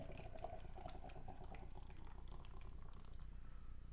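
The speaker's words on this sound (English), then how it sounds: "Pour pretty aggressively." Triple IPA beer pours aggressively into a glass with a soft fizzing, bubbling rush, fairly quiet and continuous for a few seconds.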